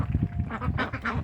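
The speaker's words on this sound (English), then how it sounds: "I kind of like the noise that they make when the ducks go with their bills." Ducks quack and dabble with their bills in water, a few nasal quacks mixed with wet, chattering bill noises, close and fairly loud with no talk over them.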